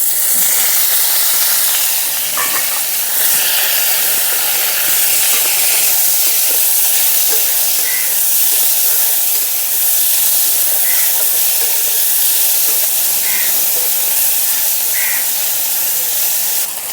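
Taro stolons go into a pan of fried onions and sizzle with a steady, loud, close frying hiss that lasts throughout, with faint crackles and no talking.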